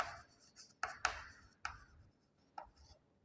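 Chalk or marker writing on a classroom board during a physics lesson: several quick scratchy strokes and taps in irregular bursts, close and quiet, with no speech.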